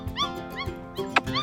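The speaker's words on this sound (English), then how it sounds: "He is a baby, but he's a baby Boerboel." A Boerboel puppy whimpers and yips in short, high, rising cries, several soft whines in quick succession heard up close with faint background noise.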